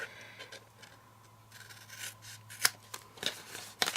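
Scissors snip through paper gift cube tabs, a few crisp cuts and rustles near and fairly faint, with brief sharper snips toward the end.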